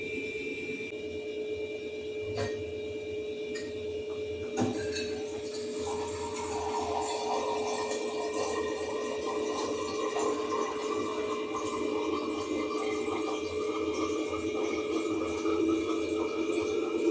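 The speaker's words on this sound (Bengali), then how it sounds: "এবার আমি এই বোতলগুলোয় জল ভরে নিই।" Running water fills empty water bottles at home: a steady, moderately loud pour that begins about a third of the way in and continues unbroken to the end, with no voices.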